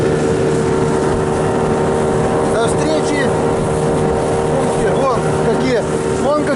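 A motorboat engine drones steadily on open water, loud and close, with a constant hum and splashing wash; a dog and people can be heard faintly in between.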